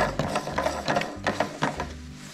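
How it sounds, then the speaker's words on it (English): A plastic fuel cap being untwisted by hand gives off a run of close ratcheting clicks, several quick bursts of plastic clicking in an uneven rhythm, with faint low mechanical noise underneath. "I'm gonna just untwist the fuel cap."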